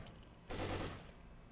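Gunfire in the video game Takedown: Red Sabre: a short, faint burst of rapid shots about halfway through, following a few soft clicks, with no talking.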